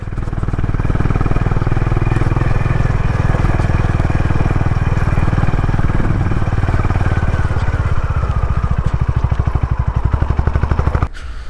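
Honda Highness motorcycle engine on a ride in Spiti Valley near Hikkim, a loud, close, steady thumping idle with a rapid regular pulse that cuts off abruptly near the end.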